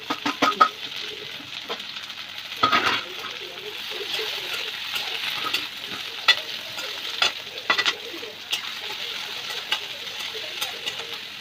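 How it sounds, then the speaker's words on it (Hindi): Onion and capsicum fry together in a pan, a steady close sizzle with repeated scraping and clattering as they are stirred. "प्याज कैप्सिकम एक साथ पके"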